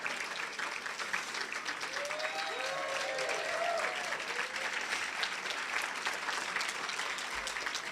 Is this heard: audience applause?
yes